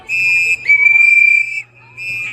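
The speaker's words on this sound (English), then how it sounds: "Why they blowing these whistles?" Whistles blown on a street to warn that ICE immigration agents are coming, a few loud shrill blasts, one fluttering trill, in quick succession with no talk.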